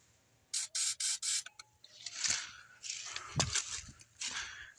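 Four quick, sharp hissing spritzes of spray go into a 2008 Yamaha Rhino 700 engine, close and evenly spaced, followed by softer rubbing and handling noises with no speech.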